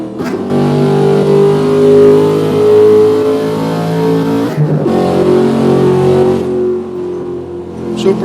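A supercharged Corvette ZR-1 revs hard on the Le Mans track, its engine loud and close, climbing in pitch for about four seconds, dropping briefly, then rising again before easing off.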